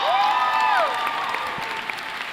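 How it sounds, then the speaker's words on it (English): Audience applause fills a college baccalaureate convocation hall in Memphis, steady and fairly loud through the whole moment, with a few brief tonal sounds riding over the clapping early on before it settles into an even wash. "please give it a round of applause"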